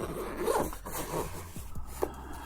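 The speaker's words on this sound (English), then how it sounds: "it keeps on making these noises that's hitting each other. That is one really big annoying factor about these zippers." Metal zipper pulls on an inexpensive camera sling bag rattle and rub against each other in a few short, close, light bursts, with no talking.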